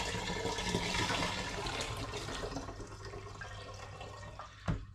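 Hot hop tea is strained into a plastic fermenter already holding cold water, a steady rushing pour of liquid that tapers off, ending with a brief knock.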